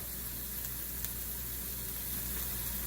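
An omelette with onion and cheese sizzles in a pan, giving a steady, close, even hiss that runs unbroken the whole time with no voices.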